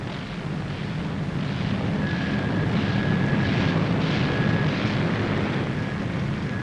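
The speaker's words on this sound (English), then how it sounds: "the first plane hauls her nose round into the wind" B-17 Flying Fortress bomber taxiing and swinging its nose into the wind, a loud, steady rumble of piston engines over broadband wind roar with a faint high whine, continuous and close.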